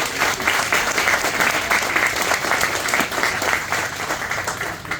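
An audience gives a sustained round of applause at a Homes for Our Troops ceremony in Howell, New Jersey, a dense, even wash of many hands clapping that holds for about five seconds.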